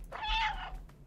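A cat meows once in the video game Stray, a short, close, clear mew lasting under a second over a low background hum.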